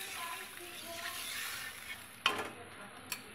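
Climbing perch frying in oil with green chilies keeps up a soft, steady sizzle, then water goes into the pan, followed by a couple of sharp utensil clicks near the end.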